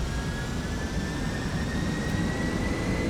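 A Boeing 757-300's jet engines spool up for takeoff in X-Plane 12, a steady broadband roar with a faint rising whine, loud and continuous throughout.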